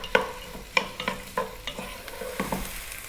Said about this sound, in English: Let's just throw this around in the pan and get them